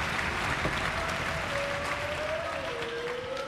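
Crowd applauding at a table tennis match at the 2007 ITTF World Tour French Open, a dense sustained wash of clapping from a large audience, steady and even throughout with a faint whistle-like tone above it.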